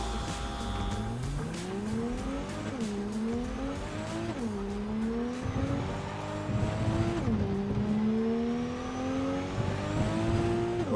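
Coyote car in Cyberpunk 2077 driving and accelerating hard, its engine note repeatedly rising through the gears and dropping at each shift, loud and continuous with tire squeal, with no talk over it.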